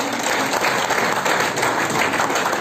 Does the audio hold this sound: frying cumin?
no